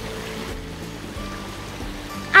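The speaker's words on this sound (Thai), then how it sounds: "แล้วก็เห็นไหมเดินลงมาไม่กี่ก้าวก็ถึง ลำธารแล้วค่ะ" A forest stream near a treehouse stay in Phatthalung, Thailand, flows with a steady, soft rushing wash, continuous and moderately close, ending in a sudden louder burst.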